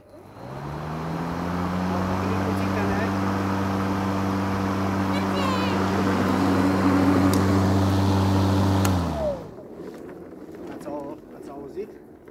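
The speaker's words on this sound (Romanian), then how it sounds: "acum haideți să vă arăt cum pornește motorul cu tot cu cuțite" A Ruris RXRI4645Ae electric lawn mower motor starts with its blades engaged, rising into a loud steady hum with strong tonal whine for about eight seconds, then winding down and stopping, leaving faint background sounds.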